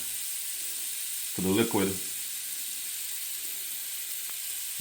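Salted butter melts over high heat in a pan for rum cream French toast, giving a quiet, steady sizzling hiss throughout, briefly interrupted by a short spoken phrase.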